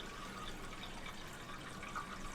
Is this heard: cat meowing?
no